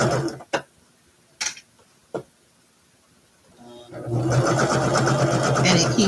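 A few sharp clicks and taps from a sewing machine, then the machine starts winding a bobbin with a steady, close mechanical whir that runs to the end.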